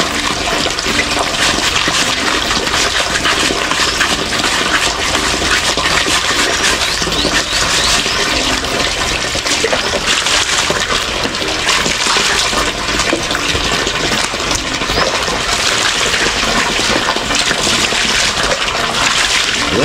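Water drains and refills in a continuous loud rush while slippers are being washed, steady wash of liquid noise throughout with no talk.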